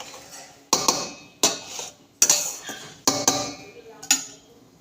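Cooked rice goes into a pan of carrots, beans and peas for fried rice, bringing five distinct metallic scrapes and knocks of a spoon against the pan at a steady pace, each loud and close.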